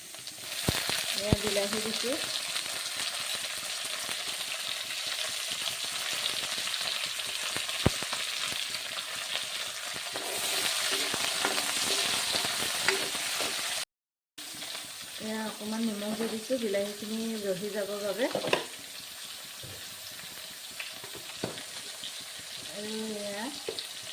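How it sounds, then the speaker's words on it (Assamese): Tomatoes sizzle and fry in a pan of oil after ginger and garlic, a steady close crackle with stirring scrapes, briefly cut off midway, while a voice speaks over parts of it. "আদা নহৰু ভজাৰ পাছত এতিয়া মই বিলাহী দিম"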